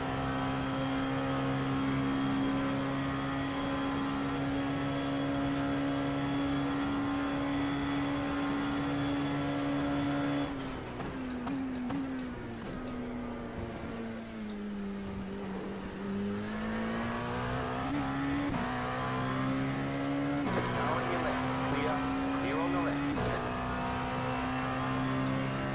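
Race cars in the iRacing sim at a 24-hour Le Mans event roar steadily at close range, engine pitch holding high, then dipping and climbing again as a rival overtakes after a corner and another engine joins and passes.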